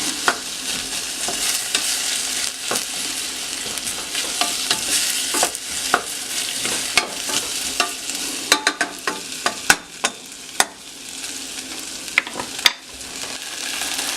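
Potatoes frying in a pot for chile verde, giving a steady sizzle under repeated scrapes and clacks of a spoon stirring, which grow sharper and more frequent toward the end.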